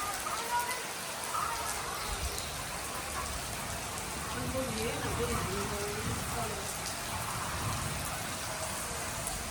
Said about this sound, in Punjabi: ਆ ਦੇਖੋ ਜੀ ਮੀਂਹ ਪੈਣ ਲੱਗ ਗਿਆ